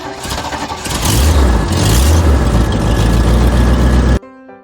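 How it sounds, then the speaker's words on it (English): A Jeep engine turns over and revs loudly and steadily for several seconds, then cuts off abruptly into near silence. "This is the Jeep sound."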